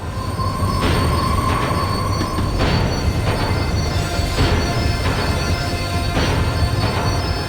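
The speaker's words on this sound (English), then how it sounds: "The tram was slowing down, and I'd only just gotten on board." A tram in the video game Max Payne 3 slows down with loud metallic wheel squeals and screeching rising and fading over steady rumbling, close and continuous, no voices.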